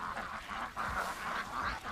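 A few short, nasal honks from domestic geese grazing on grass and grain outdoors, close by and fairly clear.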